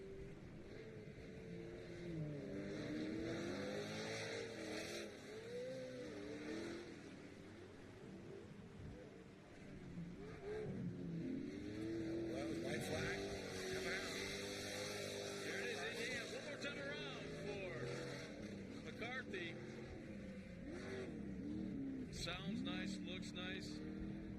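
A racing engine at a short-course off-road event in Victorville winds out fast, its pitch rising and falling in repeated sweeps at a distance, heard under continuous commentary by two people.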